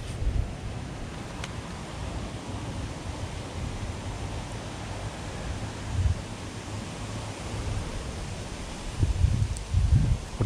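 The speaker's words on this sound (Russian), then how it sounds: "Сегодня немножко ветерок есть." Steady wind blows outdoors on the coast at Palma de Mallorca as a broad, even rush, with a few louder low gusts buffeting the microphone near the end.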